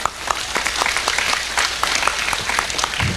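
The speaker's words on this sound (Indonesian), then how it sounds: "Tepuk tangan untuk panitia." A crowd at a mosque inauguration in Ngawi, Indonesia, breaks into loud, dense applause, many hands clapping steadily for the whole stretch with a brief voice at the end.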